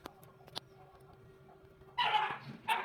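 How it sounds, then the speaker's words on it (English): A few dogs bark and yip in short bursts at feeding time, fairly close, with a sharp louder cluster near the end. "I'm so sorry about my dogs."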